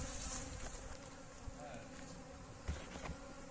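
A honeybee swarm gathered on sugar makes a continuous, close buzzing hum with a few faint knocks, quiet overall and steady throughout.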